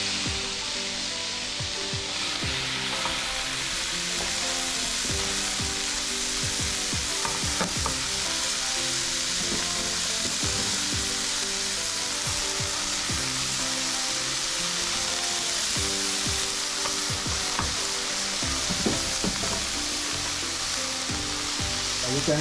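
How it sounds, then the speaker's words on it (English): Cabbage frying and sizzling in butter in a pot, stirred continuously, with a steady loud hiss and repeated scraping and clunking of the stirring utensil throughout, no talking. "Now it's time to put the cabbage in."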